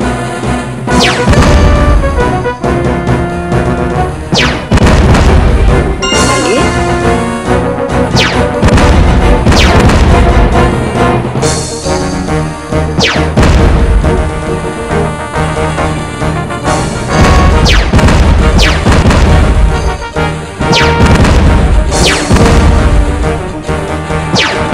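Reading Blaster arcade play with letters being shot down: loud, dense bursts of blasts, crashes and pops over continuous game music, no pauses and no talk.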